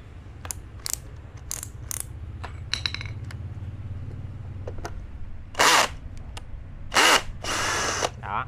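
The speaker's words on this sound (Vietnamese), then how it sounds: "những cái con ốc cứng đầu này thì chúng ta nên dùng cái máy bắn vít mạnh mạnh hơn" A power screwdriver whirs in loud bursts while backing stubborn screws out of an electric fan, with ratcheting clicks and handling noise between the runs and no speech.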